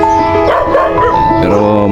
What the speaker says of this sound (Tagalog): nakaranas na ng maraming mga aso na sila yung unang umaharap sa'yo